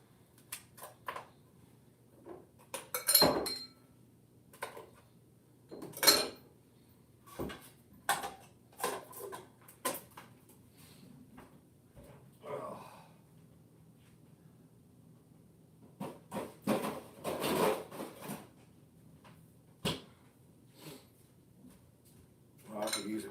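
Large ice cubes for a mixed drink are cracked by hand, giving scattered sharp knocks, clinks and crunches with quiet gaps between them, close and fairly soft.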